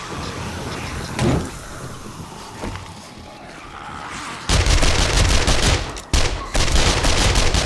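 Rapid gunfire from 7 Days to Die: scattered shots at first, then a loud sustained burst of automatic fire that breaks off briefly and resumes.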